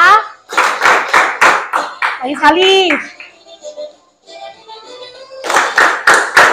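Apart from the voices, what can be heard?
children clapping hands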